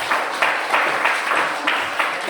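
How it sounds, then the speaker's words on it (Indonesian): A classroom of students claps together for a presenting group, a steady, fairly loud patter of hands with rhythmic swells, with no talking over it. "berikan tepuk tangan untuk kelompok 5."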